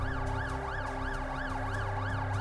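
An ambulance siren in The Alters wails in a steady rising and falling cycle, loud and continuous, with a low engine rumble beneath it.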